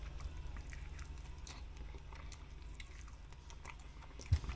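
Quiet close-up chewing of a ramen-style noodle dish, soft wet bites and mastication repeating in an irregular rhythm, with one brief louder bump near the end.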